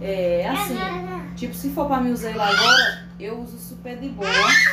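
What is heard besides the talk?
children playing in the background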